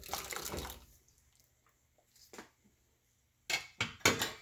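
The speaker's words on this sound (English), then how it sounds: "So I'm going to add the pureed grapes in here" Pureed grapes poured into a cooking pot for grape jam, giving short wet splashes and plops: a burst at the start, a couple of soft drips in the middle, then three quick liquid pours close by near the end.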